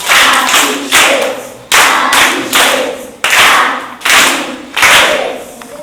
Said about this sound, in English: She's done well. Give her a clap.